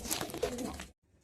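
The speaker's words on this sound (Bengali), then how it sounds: "এই যে পায়রা," Domestic pigeons in a Bengal pigeon loft coo and stir close by, a dense burst of cooing and fluttering for about a second before cutting off into near silence.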